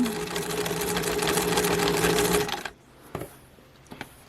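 A sewing machine stitches rapidly and steadily along a fabric edge, sounding close and continuous, then stops, leaving a few faint clicks and taps.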